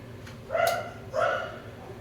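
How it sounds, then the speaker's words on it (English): Two distinct dog barks ring out about half a second apart, fairly close and loud over a quiet background hum, aboard a cruise ship. "that dog's been barking since we got on it."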